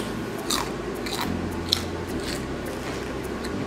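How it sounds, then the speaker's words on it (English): Someone bites and chews a sausage and peppers sandwich stuffed with cheese, producing faint, close crunches and crisp snaps over a low room hum, with no talking. "My big crunching in the background."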